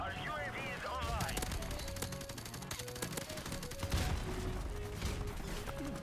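Rapid bursts of gunfire fill a Call of Duty: Modern Warfare Remastered multiplayer match, dense crackling volleys and single shots layered over game effects and music, loud and continuous throughout.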